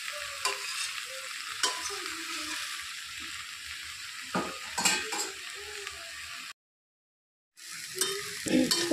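Mixed vegetables with jackfruit and shrimp fry in a pan with a soft sizzle while a utensil stirs and scrapes in irregular strokes, and the sound stops briefly before the stirring and sizzling resume.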